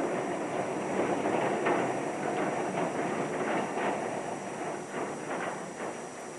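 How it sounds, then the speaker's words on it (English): The first Melbourne tram of the day pulls out of the Hannah Street depot on a still midwinter morning, a steady rumbling roll with faint rhythmic clacks over the rails, no voices. "The first tram of the day from the Hannah Street depot."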